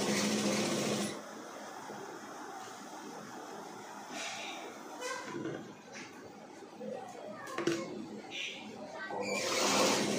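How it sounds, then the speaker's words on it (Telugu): A sewing machine runs a round finishing stitch on chudidar pants, its whirr loud at the start and end and quieter between, with faint mechanical clicks and birdsong in the background. "ఫినిషింగ్ స్టిచ్ వేసేస్తాం రౌండ్గా తిప్పుకుంటూ."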